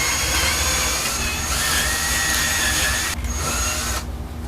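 A drill press whines steadily as it bores into wood for a wind spinner, loud and close, with the motor pitch shifting slightly before easing off near the end.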